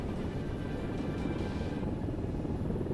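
A video game helicopter drones steadily at a distance, its rotor hum constant and fairly quiet for a few seconds.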